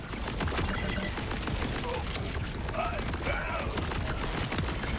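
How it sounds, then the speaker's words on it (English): Peacebreaker turret cannons firing in Borderlands 4, a steady dense barrage of gunfire and booms filling the whole stretch at constant loudness, with game sounds layered over it. "Bringing out the turret, the peacekeeper cannons, or the peacebreaker cannons"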